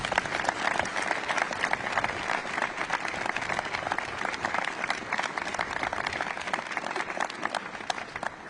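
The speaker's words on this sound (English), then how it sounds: "Another round of applause for our veterans" Sustained applause from a large crowd honoring veterans at an outdoor 82nd D-Day anniversary ceremony, dense steady clapping holding for the whole stretch at moderate distance, with no voices over it.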